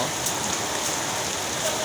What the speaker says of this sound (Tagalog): uminto sa lakas ng ulan